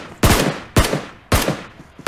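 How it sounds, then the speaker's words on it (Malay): Three loud, sharp SCAR-L gunshots in PUBG Mobile, spaced about half a second apart, each cracking hard and then ringing out in a short reverberant tail, with no talk. "melepaskan tembakan menggunakan Scar L"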